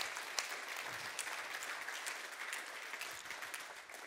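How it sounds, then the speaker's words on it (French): An audience applauds a group of helpers, a steady, fairly faint wash of many people clapping heard alone without talk. "je crois que vraiment qu'on peut toutes et tous les applaudir"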